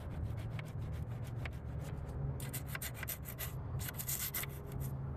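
A rotary brush or pad grinds caked grime off a car wheel during detailing, a steady abrasive rubbing drone with scratchy bursts, close and continuous with no talking.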